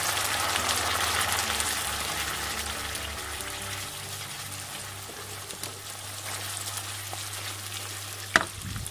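Balado sauce sizzles and bubbles steadily in a pan as it cooks down and thickens, a continuous close frying hiss with a low hum underneath and one sharp clink near the end.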